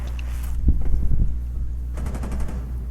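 Rapid bursts of automatic gunfire in Rainbow Six Siege, loud and close, with a rattling volley early and another quicker string of shots later, no talking over it.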